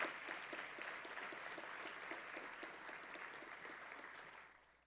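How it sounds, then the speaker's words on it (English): An audience at a university seniors ceremony gives a faculty and staff group a round of applause, a fairly faint, even clapping that fades out at the end. "Let's give them a big round of applause"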